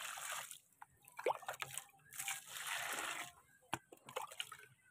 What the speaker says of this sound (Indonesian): Kita siramkan ke sekitar pohonnya.